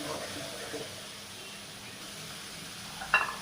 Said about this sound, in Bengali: দিয়ে আমি এবার মশলাটা ভালো করে একটু ভেজে নেব।